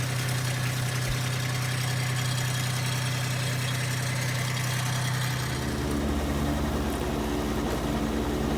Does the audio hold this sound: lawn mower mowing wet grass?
yes